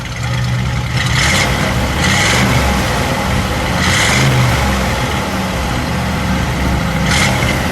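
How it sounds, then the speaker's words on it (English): A 1955 Mercury Montclair engine revs up repeatedly, roaring in several bursts over a steady rumbling idle, loud and close. "Dennis, give it a rev."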